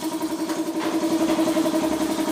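Small motorcycle engine, dirty and under repair with gasket work, idling steadily with a rapid, even rattling knock like clacking lato-lato balls, close and continuous.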